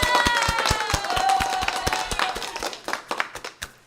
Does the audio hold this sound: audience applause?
yes